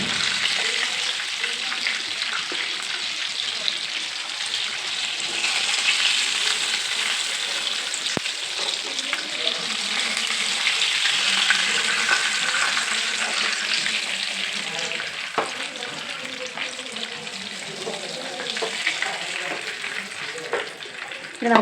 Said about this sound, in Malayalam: അപ്പോൾ നമ്മുടെ ചിക്കൻ ഫ്രൈ ഇവിടെ സെറ്റായിട്ട് നമുക്കിത് കോരി മാറ്റാം.